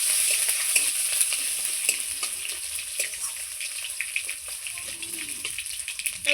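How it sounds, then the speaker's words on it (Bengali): Mustard seeds and crushed garlic sizzle in hot oil with a steady hiss, dotted with frequent small crackles and pops and a few stirring scrapes, close and continuous throughout. "এদিকে সর্ষে ফোড়ন দিয়ে দিলাম"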